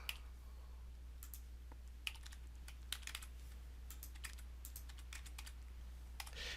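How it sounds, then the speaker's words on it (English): Typing on a computer keyboard, scattered crisp key clicks in irregular bursts over a low steady electrical hum, close and fairly quiet. "I'm typing in the keyboard"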